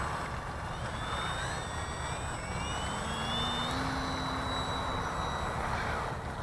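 An FMS SuperEZ RC model airplane in flight, its small electric motor giving a steady, continuous whine with rising and falling pitch as it passes, heard outdoors over constant wind noise.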